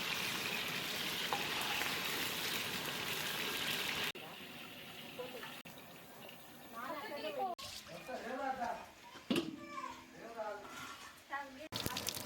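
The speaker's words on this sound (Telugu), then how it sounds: "నూనెలో ఫ్రై అయినాక వంకాయ కూడా ఇట్లా ఫ్రై చేసుకుంటాం." Brinjal and masala frying in hot oil in a home kitchen, a continuous sizzle that drops and then crackles in bursts as the pan is stirred, with someone speaking over it.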